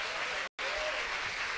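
A church congregation applauds during a sermon, producing a brief burst of dense, steady clapping with a momentary dropout in the middle.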